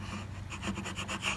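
Dried glue is scraped off a wooden tabletop during assembly, a series of close, rhythmic rasping strokes repeating about every tenth of a second.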